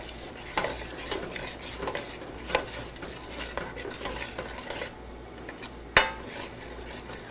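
A spoon stirs tomato pizza sauce in a pot on the stove, with soft scraping and clinks against the pot and one sharp metallic knock near the end, set against a low simmering sizzle.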